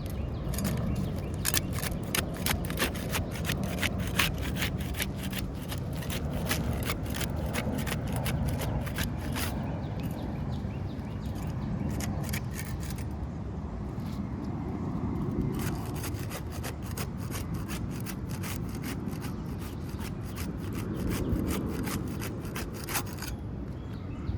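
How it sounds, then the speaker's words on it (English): A putty knife pries at sealed roof shingles on a front slope in clusters of quick, crisp scraping and clicking strokes, close by, separated by a quieter stretch in the middle. "We'll use the putty knife to unseal the top two shingles."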